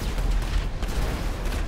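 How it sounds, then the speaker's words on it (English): An explosion in GTA Online, a dense, loud, rumbling blast with crackling bursts that sustains throughout. "Oh wow, that was a nice explosion."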